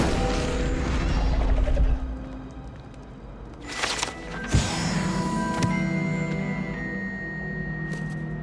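An Incendio fire spell is cast in the game Hogwarts Legacy, a loud whooshing burst of flame with crackling and magical impact sounds that fades into ringing, layered game effects.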